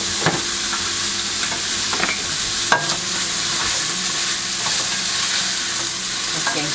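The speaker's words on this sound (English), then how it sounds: "Hoy vamos a mezclar este." Stirring an escabeche mixture with garlic powder in a pan, a steady sizzle under scraping strokes of a utensil, close and even throughout with no talk.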